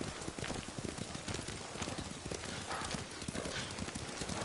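Steady clip-clop of horse hooves at a brisk trot in a PS4 video game, dense and continuous, with faint background ambience.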